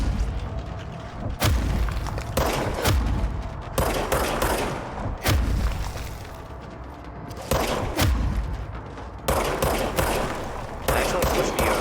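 Rapid gunfire from a weapon in the video game Control: bursts of heavy shots with booming impacts, repeated in clusters roughly every second or two, loud and close with a rumbling tail.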